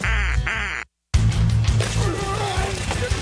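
Cartoonish duck quacks from a drain cleaning radio ad, loud and close, a burst of repeated quacks, then a brief silence and more quacking mixed with voice and music.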